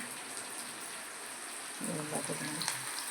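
Onion browning in a pan for masala poha gives a continuous low crackling sizzle, with a voice briefly heard partway through.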